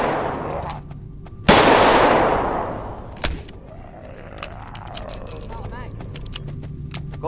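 Gunfire in the zombie shooter No More Room In Hell: one loud close shot with a long decaying tail, then a second sharper shot, with voices talking between and after them.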